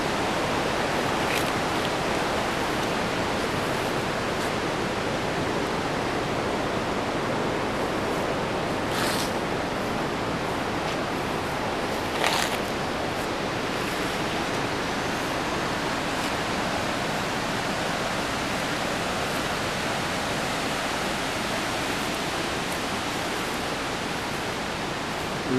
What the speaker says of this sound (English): The river right down below.